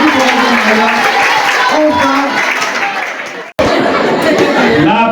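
Applause and cheering from a crowd gathered for a Catholic school's day of prayer and solidarity, loud and close, with a voice speaking over the clapping before a brief cut.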